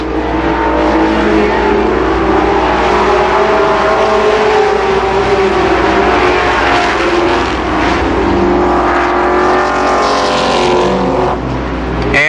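Race cars roar around Columbus Motor Speedway, a dense, continuous engine drone at full volume that holds steady across the whole stretch with slight swells as cars pass, no talking.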